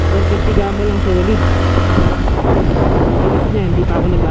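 A car engine revs hard and rises as the driver shifts up through the gears, loud and close, with someone talking over the mechanical drone.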